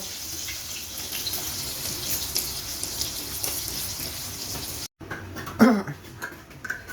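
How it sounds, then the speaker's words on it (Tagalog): Water poured into a pot of laing while cooking, a continuous splashing flow that cuts off briefly, then resumes with a few louder sloshes and clatters. "Lalagyan ng tubig."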